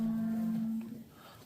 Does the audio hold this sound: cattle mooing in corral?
yes